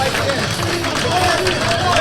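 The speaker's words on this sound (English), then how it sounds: "The crowd is loving it." Spectators at a grappling match on a promotion's undercard roar in a dense, loud, continuous wash of cheering and babble, with a commentator's voice over the top.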